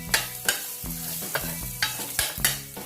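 Ginger frying in about a tablespoon of oil in a pan, with a steady sizzle punctuated by repeated sharp scraping stir strokes at a brisk, uneven rhythm, close and clear with no talking.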